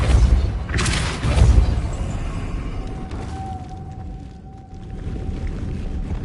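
Depulso force spell cast in Hogwarts Legacy, a deep booming whoosh with a rumbling low impact, then a thin sustained magical tone ringing out over fading ambient rumble.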